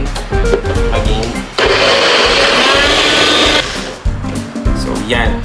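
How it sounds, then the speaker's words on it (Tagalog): A kitchen blender runs loudly for about two seconds, puréeing greens with olive oil and parmesan cheese. A person talks just before the whirring motor starts and again after it stops. "Saka na natin siya i-blender para mag-combine"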